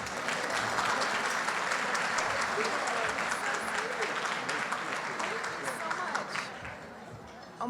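Sustained, dense applause from a large audience welcoming the host at a ladies' luncheon and fashion show, loud and steady throughout before tapering slightly near the end.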